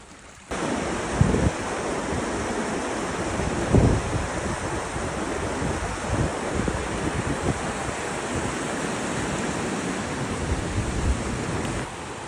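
The South Fork river flows beside a trail in steady broadband rushing water noise with no pauses, close and fairly loud, with a few brief bumps and no talking.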